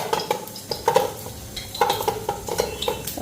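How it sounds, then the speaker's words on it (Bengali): Eggplant fries in oil in a pan and is turned with a utensil, which makes a run of close, rhythmic scraping and clinking strokes over a light sizzle. Nobody talks. "এদিকে আগে বেগুনটা ভেজে নি"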